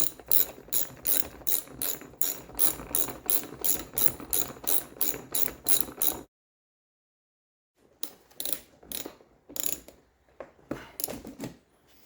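Ratchet tightening bolts on a cheap tractor bought from Amazon, a rapid rhythmic run of sharp metallic clicks up close, then a pause of silence before a few more uneven bursts of clicking.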